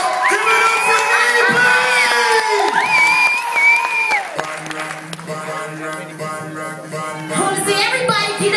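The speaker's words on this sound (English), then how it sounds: "Can y'all put your hands together real, real hard right now?" Crowd at a college performance cheering and shouting, with sung or shouted voices and whoops riding over the noise, then a lower, busier stretch of crowd sound with some clapping.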